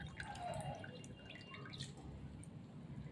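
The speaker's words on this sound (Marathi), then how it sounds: "आपण अशी ती पाणी काढून घ्यायचं" Water drains from washed bitter gourd in a kitchen, a faint trickle with soft scattered drips close by and no voices.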